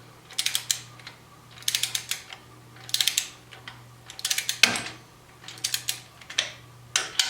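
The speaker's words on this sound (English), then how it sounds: "they say to tighten them 10 to 12 foot-pounds, so we'll tighten them up" A ratchet wrench tightening the air cleaner bolts on a 2016 Harley Tri Glide clicks in quick bursts of rapid pawl ticks, about eight separate runs with short pauses between, close and crisp over a low steady hum.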